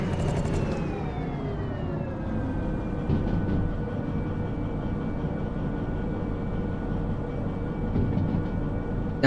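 A train rolls steadily along the track in the VR railway game Derail Valley, a continuous rumbling drone with a descending whine at the start and no talking.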